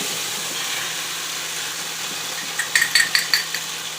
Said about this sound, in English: we got our eggs frying